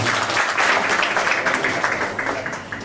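Loud, sustained applause from an audience at a ceremony honouring dignitaries, a dense wash of many hands clapping continuously throughout, slightly easing toward the end.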